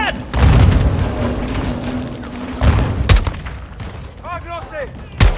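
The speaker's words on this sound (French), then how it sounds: "Ils lancent des grenades!" Grenade blasts and gunfire in the Call of Duty Modern Warfare 2 campaign, with loud booms near the start and around three seconds and a sharp crack at the end, amid battlefield noise and radio-like voices.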